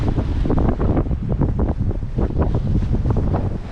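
Steady wind buffeting the microphone with waves washing against the hull of a sailboat under sail near Ilha Grande, Brazil, a continuous loud rushing roar with no voices.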